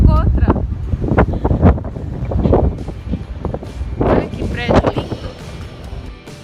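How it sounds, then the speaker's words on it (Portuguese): Very strong wind buffets the microphone outdoors near a building, roaring in uneven low gusts that swell and fade, with a person's voice breaking through between blasts. "O vento tá muito forte."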